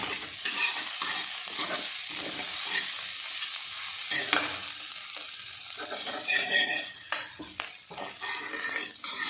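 Tadka for mixed dal fries in a pan with a steady, loud hiss of sizzling oil, broken by the scrape and clatter of a spoon stirring, all close up.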